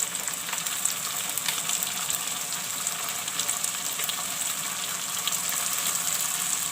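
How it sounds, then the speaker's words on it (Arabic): Zucchini sautéing in a hot pan gives a steady, close sizzle and crackle with a faint watery hiss, running evenly and unbroken the whole way through. "بصوا يا جماعه هي اتشوحت شويه كده بالطريقه دي"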